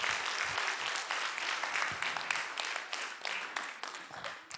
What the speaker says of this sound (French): J'aimerais entendre un applaudissement à ceux qui croient qu'il faut Jésus.